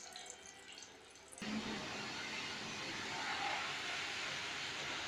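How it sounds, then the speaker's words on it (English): Engine oil draining from the oil filter of an Opel Astra H 1.9 CDTI: a faint hiss, then a steady, close, continuous trickling flow that holds to the end. "one is for draining the oil from the filter, so not to make a lot of mess"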